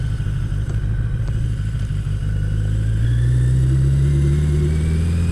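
A motorcycle engine drones steadily while riding, with the pitch rising gradually as it accelerates, loud and close with no talking.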